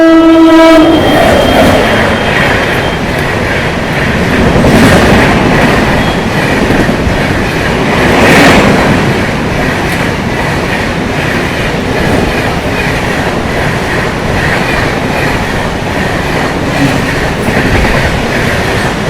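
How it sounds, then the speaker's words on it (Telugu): Anga Express train passing Hoodi Halt on the South Western Railway. A horn sounds at the start, then a loud, close, continuous rumble and clatter of the passing coaches runs steadily throughout. "దూరంగా చూస్తే మన అంగా ఎక్స్ప్రెస్ అయితే వస్తుందన్నమాట"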